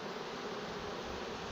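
A honeybee swarm moving into a hive gives a steady, dense buzzing hum that stays even and close throughout, with no voices.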